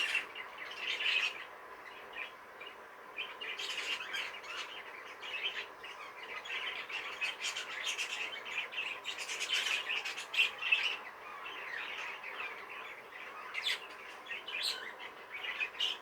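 A cockbird and hen in a breeding cage chirp constantly, with busy, close, overlapping tweets and squawks and no quiet gaps.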